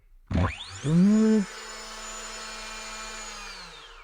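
A Makita DUC254 cordless chainsaw's electric motor whirs up with a sharp rising whine, briefly surges louder, then settles into a steady high-pitched hum that slowly winds down, running with no bar or chain fitted.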